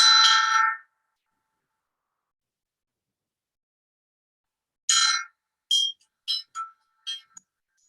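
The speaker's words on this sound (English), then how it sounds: "It's kind of like a singing bowl, but it's a singing bell." A Nepalese singing bell, akin to a singing bowl, rings out clearly in a bright struck tone, then after a long silence sounds again in a series of five short strikes of decreasing length, each decaying quickly.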